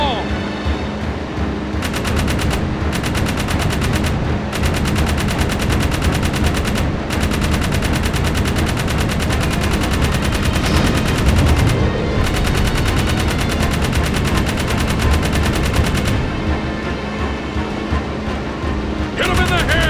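Continuous rapid gunfire and bursts of shooting from the video game Jak 3, loud and dense throughout, with a voice talking over the barrage.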